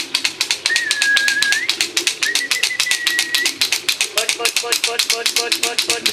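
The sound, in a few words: pigeons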